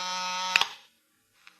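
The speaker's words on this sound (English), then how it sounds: "It was time for the buzzer on my desk to sound out the call" A desk buzzer sounds one sharp, harsh electric burst lasting under a second, close and loud, then cuts off to silence with a faint brief echo afterward.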